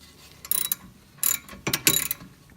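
Ratchet clicking while tightening 14 mm rear brake bracket bolts on a Honda CRX, three or four short bursts of rapid clicks, close by with no talking.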